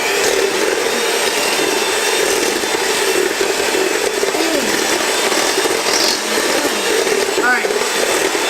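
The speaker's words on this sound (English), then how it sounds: "we're going to use an electric mixer to mix it all together" An electric hand mixer whirs steadily through zucchini bread batter in a home kitchen, a continuous buzzing drone throughout with faint voices and clatter in the background.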